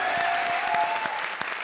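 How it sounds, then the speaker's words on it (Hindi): Studio audience applause on a Hindi TV comedy show stage, a steady dense wash of many hands clapping at moderate level with a few whistles heard over it, no talk. "जोरदार तालियां हो जाए मेरे मालिक के लिए।"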